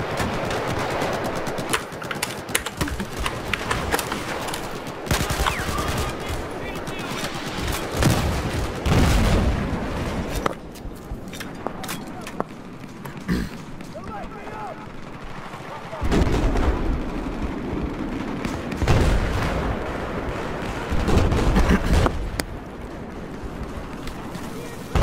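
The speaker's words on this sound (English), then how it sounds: "They're shooting everywhere." Dense gunfire and booming explosions from a Battlefield 4 multiplayer match, with shots crackling continuously and heavier blasts at intervals, under player voices talking throughout.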